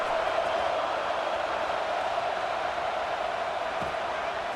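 Steady wall of stadium crowd noise from a College Football 26 video game, a dense, even roar with no peaks, heard continuously at a moderate distance.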